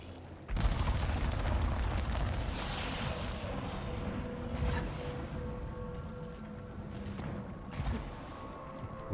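Gunfire and weapon blasts in the video game Returnal, with a loud burst near the start trailing into rumbling booms and scattered shots that fade in intensity.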